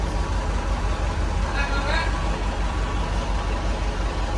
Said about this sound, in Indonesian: Naik bis kecil.